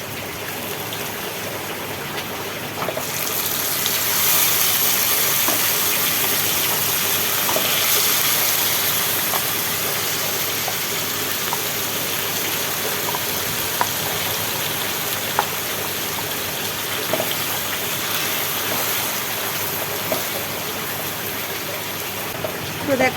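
Chicken pieces frying in hot oil for biryani in a home kitchen, a steady loud sizzle and crackle with a burst of spitting after the meat goes in, continuing evenly to the end.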